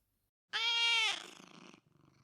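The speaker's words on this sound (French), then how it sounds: "c'est un chat qui miaule et qui ronronne en même temps" A loud, close cat meow with a rising tone flows straight into a soft rhythmic purr that rumbles on briefly afterward.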